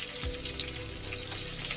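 Three finely chopped onions fry in a pan, a steady close sizzle with a soft bubbling undertone throughout the short moment.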